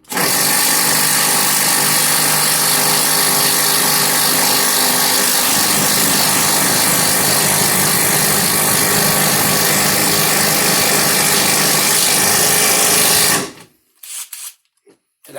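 A Bosch 12V brushless driver drives fasteners with a loud, continuous motor whine that holds steady for about thirteen seconds, then cuts off to near quiet.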